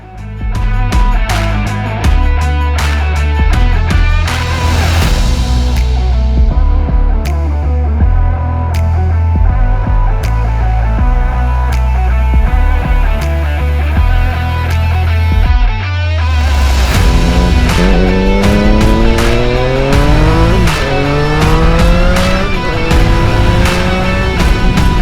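A 2014 Triumph Street Triple R motorcycle engine pulls hard on a ride, loud and close, its pitch climbing through several revs with a break partway before another rising run of sweeping harmonics.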